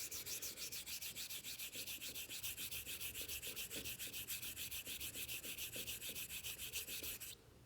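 Straight razor (Filarmonica 13 Doble Temple) swept in rapid, even strokes across a honing stone while setting the bevel, giving a continuous rhythmic scraping rasp, about four strokes per second, close and clear with no talk.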